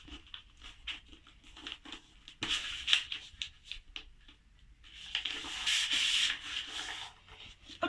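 Paper being folded into a dart-style airplane: close, dry rubbing and creasing strokes, with a longer, louder crinkling scrape midway through and softer patting between, no voices.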